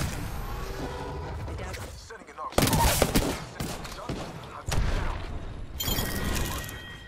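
Chaotic video game combat with bursts of gunfire and heavy booms, loud surges separated by quieter stretches, and voices talking over part of it.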